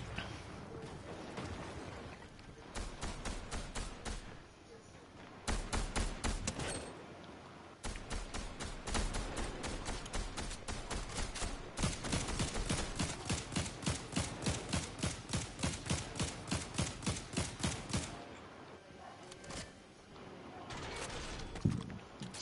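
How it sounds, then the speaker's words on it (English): Video game gunfire comes in faint, rapid bursts of evenly spaced shots, building to a long steady run of rhythmic fire near the end, quiet and distant beneath a little talk. "Somebody else shooting at him too."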